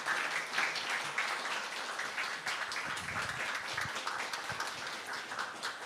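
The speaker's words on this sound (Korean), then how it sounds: "등단하실 때 우리 환영의 박수로 맞이하도록 하겠습니다" A church congregation claps steadily throughout, a continuous wash of welcoming applause at moderate volume with no voices standing out.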